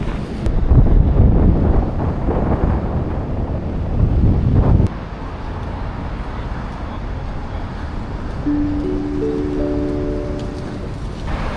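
Sea waves breaking on the shore at Gwangalli beach in Busan, a steady broadband wash of surf with heavy wind rumble for the first few seconds, then a softer continuous roar with faint tonal hum near the end.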